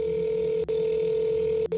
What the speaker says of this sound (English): Phone calls.